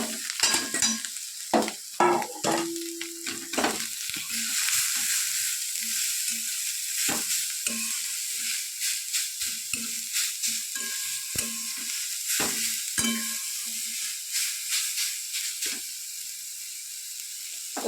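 Chopped cabbage and carrot sizzle steadily in a frying pan, a constant hiss broken by repeated scraping stir strokes, close and fairly loud, with no talking.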